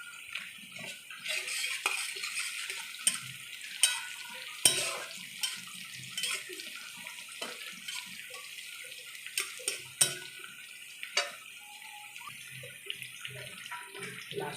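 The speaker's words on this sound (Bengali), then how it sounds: "চিকেনটা দিয়ে দিলাম, ভেজে নেবো একটু হালকা করে" Chicken, capsicum and cashews fry in a pan for fried rice, giving a steady close sizzle broken by repeated sharp scrapes and clinks of a spatula stirring against the metal.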